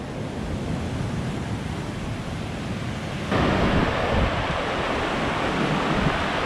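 Ocean waves break against a rocky island headland, a continuous loud roar of surf and wind with a surge partway through and no voices.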